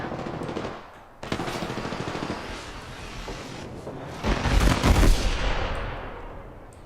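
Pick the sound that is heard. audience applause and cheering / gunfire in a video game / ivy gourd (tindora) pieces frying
gunfire in a video game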